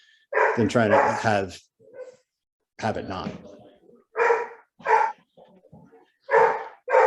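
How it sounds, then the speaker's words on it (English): A dog barking in a home, several loud close barks in short bursts with pauses between, mixed with a person speaking. "I also have a dog barking, so I'm going to mute myself for a second."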